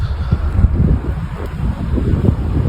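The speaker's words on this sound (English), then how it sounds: "Heavy snow, windy conditions." Strong blizzard wind roars and buffets the microphone in a steady, close, low rumble during heavy snow on a New York or New Jersey road.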